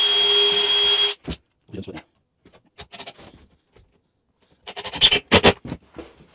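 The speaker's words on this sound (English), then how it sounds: "now I want to pre-drill" A short burst of machine whine from a power drill pre-drilling a pilot hole in straight-grained wood, followed by scattered clicks and knocks, then a few loud rhythmic thumps near the end.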